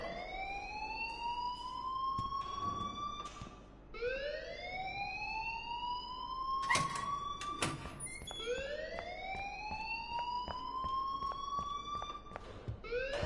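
School alarm blaring in the video game Life is Strange: a loud siren-like wail that sweeps upward and repeats roughly every three seconds, with sharp clicks and bursts layered over the cycles.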